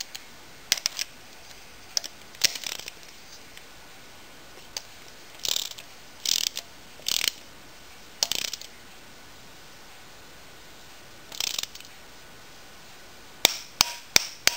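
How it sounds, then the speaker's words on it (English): A wrench torquing down a long-throated bolt on a Yamaha V-max engine during assembly, giving sharp intermittent clicks and ratchet bursts in irregular clusters, close and fairly quiet over a low steady hiss. "as we're torquing it down. I'm just going to, it's a long throated bolt"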